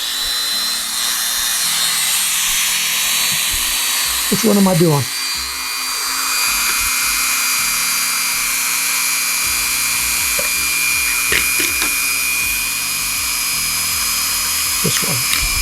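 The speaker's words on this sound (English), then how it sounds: "So I'm going to turn on my drill." An electric drill runs near-continuously while holes are drilled in a model rocket fin, a steady high whine with brief stops and pitch shifts; a person speaks briefly over it.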